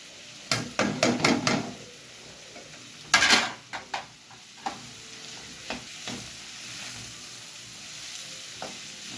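Metal utensil scrapes and clanks against a pan while stir-frying noodles with vegetables and fried egg, a burst of rapid close stirring strokes over a low sizzle, then a few sparser scrapes.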